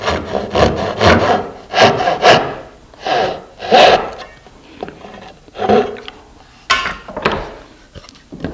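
Close, rhythmic rasp of a hand saw cutting a dovetail joint in wood, a steady series of about a dozen push-pull strokes, loud and unaccompanied.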